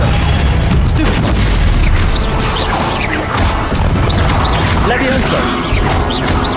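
Confringo blasting-curse explosions in the game Hogwarts Legacy, loud booming bursts and crashing impacts layered over dense spell effects and action noise, continuous and close throughout.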